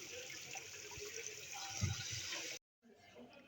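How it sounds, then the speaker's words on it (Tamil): Peeled potatoes are washed in water, a steady hiss of running tap water and gentle sloshing filling most of the moment before a brief cut to quiet, then the flow resumes faintly. "தோல் சீவனதுக்கு அப்புறமா நல்லா தண்ணியில் அதை வாஷ் பண்ணி எடுத்துக்கலாம்."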